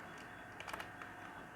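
A few faint, quick keystrokes on a keyboard tap out a short command, heard over a steady background hiss.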